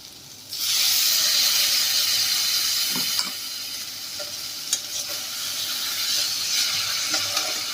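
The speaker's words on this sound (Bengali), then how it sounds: "আর এবারে আমি অ্যাড করে দিচ্ছি একটু জল।" Water poured into mustard paste in a hot pan while cooking green beans bursts into a loud, sudden hissing sizzle. It then settles into a steady, bubbling fry with a few stirring clinks.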